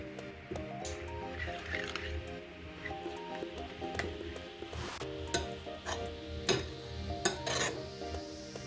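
Green chutney of mint, coriander, chili and salt being stirred in a bowl: wet squishing and scraping strokes with occasional clinks of a spoon against the dish, fairly quiet and irregular, no speech.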